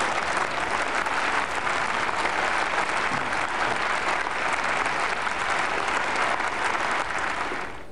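A seated audience at an inaugural speech claps steadily for several seconds, a dense, even wash of applause that fades slightly at the end.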